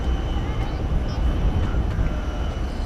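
Steady roar of an airliner jet passing by at DFW Airport, a continuous broad engine rumble heard throughout with a voice talking over it.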